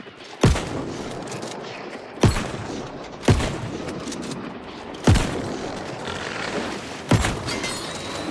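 Five sharp, loud gunshots from a firearm in New World ring out alone at uneven intervals, each with a hard crack and a short decaying tail.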